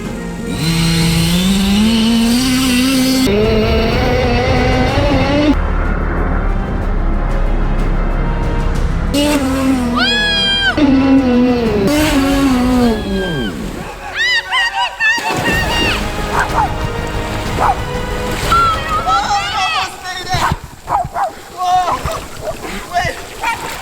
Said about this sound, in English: You guys are about to drive on water on a gas-powered car, the world's biggest gas-powered car.